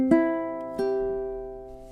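Ukulele strums the first measure of a song in 3/4 swing time: two strummed chords, each ringing out and slowly decaying, clear and close with no talking.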